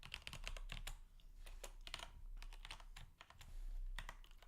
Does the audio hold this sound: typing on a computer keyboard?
yes